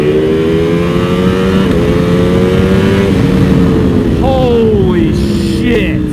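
A motorcycle fitted with an Akrapovic exhaust and a Bren stage 2 flash accelerates hard, its loud, close engine note climbing through rising pitch sweeps with brief breaks between gears before spinning up again.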